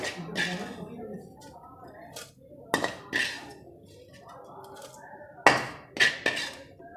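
Roasted vermicelli is scooped from a pan into a bowl with a few sharp metallic clinks and scrapes of a spoon, spaced out between quieter stretches, while someone talks over it.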